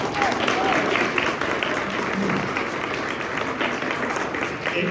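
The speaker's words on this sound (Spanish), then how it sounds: "Den un fuerte aplauso al Señor por eso." Church congregation applauding loudly and steadily during a Spanish-language sermon, a dense wash of clapping from a large crowd that holds at an even level throughout, with no pause or talk over it.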